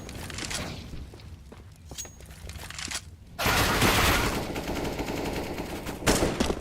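Automatic gunfire in a Counter-Strike match on the Inferno map, shots punching through a wall: a rapid burst of loud, sharp reports that intensifies midway and ends with a heavier flurry of cracks.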